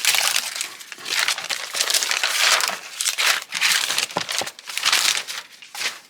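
Plastic wrapping on a new A4 Moleskine sketchbook is torn and crinkled open by hand, with a run of close, loud rustling bursts and brief pauses between them.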